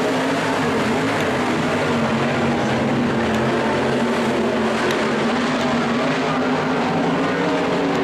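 Sprint cars roar around a dirt oval in a continuous loud engine drone, several cars blending into one sustained, steady wash of noise with no voices.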